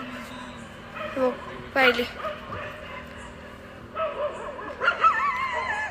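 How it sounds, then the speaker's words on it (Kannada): Dogs bark and yip at night on a roadside stop along a highway drive, several sharp bursts at moderate distance with whimpering between, while a person talks over them. "ನಾಯಿಗಳು ಹಿಂಗೆ ಬಡ್ಕೊತ ಇದ್ದಾವೆ."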